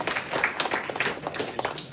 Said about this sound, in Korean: 박수 우리 격려 한번 해주겠습니다.